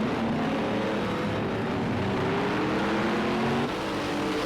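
Group C race cars in Project Cars 2 accelerate at Catalunya, a loud, steady engine roar with rising pitch that fills the whole stretch, with no talking over it.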